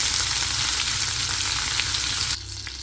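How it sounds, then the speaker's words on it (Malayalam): Marinated fish sizzling in a hot pan for fish pollichathu, a loud steady fry that suddenly drops to a quieter hiss near the end. "നമ്മൾ മാരിനേറ്റ് ചെയ്ത് വെച്ച മീൻ നമുക്കൊന്ന് വറുത്തെടുക്കാം."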